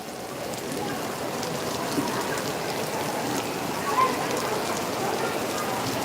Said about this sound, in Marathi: मोठ्या प्रमाणात दणक्यात पाऊस पडलेला आहे